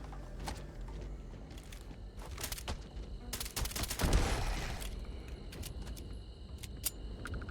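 Gunfire from a sci-fi shooter video game comes in scattered short bursts and single shots, rising to a denser, louder volley with a deep impact midway, over mechanical game ambience.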